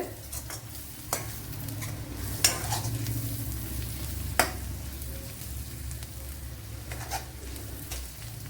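Small onions sautéing in a pan for a Kerala-style chicken dish, with a continuous moderate sizzle and a few sharp clinks and scrapes of a spoon stirring, no talking.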